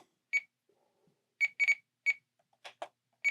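An FrSky radio transmitter plays a custom high alarm for cylinder 1 of a Wedell Williams Model 44 engine: several sharp, close electronic beeps in an irregular pattern, with a brief synthetic voice-like chirp among them.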